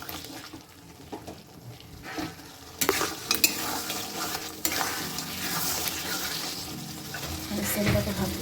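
Meat cooking down with spices in a pan, a sizzling fry with repeated scraping and stirring strokes that grows busier partway through, heard up close.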